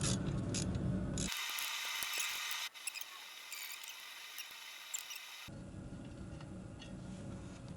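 A wrench cracking loose 12mm bolts on a Duramax diesel fuel rail, heard as a series of close, light ratcheting clicks and metallic ticks over a steady background hiss.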